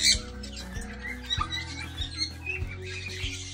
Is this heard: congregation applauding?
no